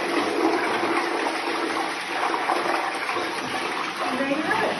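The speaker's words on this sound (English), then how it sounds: "so just remove the strips from the toilet, and then flush, lid down," A home toilet flushes with the lid down, a loud sustained rush and swirl of water lasting several seconds, close by and without speech.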